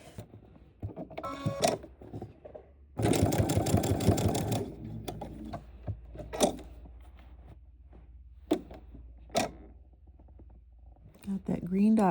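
A sewing machine stitches the binding on a quilted coat in a short loud burst of rapid stitching, then brief single stitches follow amid quiet handling noises.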